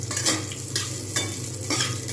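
Ingredients sizzle in a pan for bhapa puli filling while a utensil stirs in regular scraping strokes about twice a second, close and steady.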